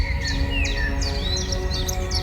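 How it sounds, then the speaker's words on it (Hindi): Several birds chirp and tweet in quick, overlapping calls over a steady low hum of background noise. "चिड़ियों की आवाज़"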